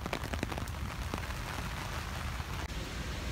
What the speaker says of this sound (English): Okay, so it's raining, but this is the city, Yokohama.